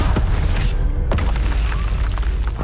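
A Confringo fire spell in the video game Hogwarts Legacy bursts with deep booming impacts against a dense, rumbling battle background, loud and continuous with sharp hits at intervals.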